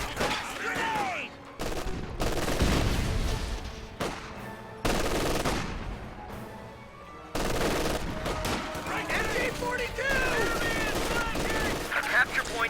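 MG42 machine gun fire in a competitive World War II strategy game match, long loud automatic bursts with sharp gunshots and blasts layered over battle noise, broken by brief pauses, with a caster's voice partly heard underneath.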